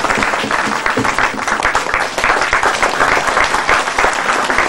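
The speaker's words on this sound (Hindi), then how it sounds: "कम से कम ताली मारे तो सर करना ही" An audience at a church youth Sunday gathering claps, a loud, dense burst of applause that runs steadily through the whole moment with no talking over it.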